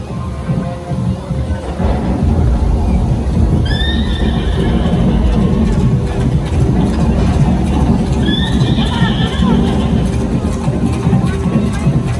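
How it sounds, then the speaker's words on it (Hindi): A horse whinnies twice, loud and drawn out, over a dense bed of crowd noise and music at a water and light show retelling the Pandavas' Ashvamedha sacrifice horse in Jammu. "ये कोई साधारण अश्व नहीं है, ये अश्वमेध यज्ञ का घोड़ा है जिसे पांडवों ने छोड़ा"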